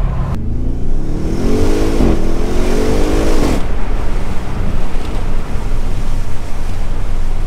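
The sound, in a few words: car engine revving to rev limiter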